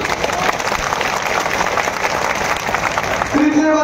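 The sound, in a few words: crowd clapping to thank officials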